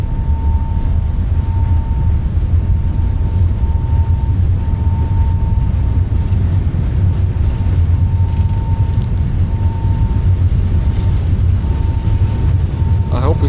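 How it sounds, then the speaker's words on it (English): Boeing 737 MAX jet engines in Microsoft Flight Simulator spool through a takeoff roll, a loud, steady broadband roar with a low rumble and a faint sustained whine, continuous throughout. "Interesting engine sounds."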